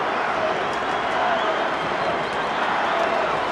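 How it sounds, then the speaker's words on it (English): A raucous stadium crowd at a Brazil vs France football match gives a dense, continuous roar with cheering and chanting that fills the whole space, and a commentator's voice is faintly present. "in front of a raucous crowd here"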